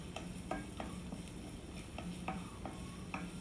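Onion, ginger, garlic and two chillies sauté in a pan, a steady sizzle broken by repeated scrapes and clacks of a spatula stirring, close and continuous with no talk.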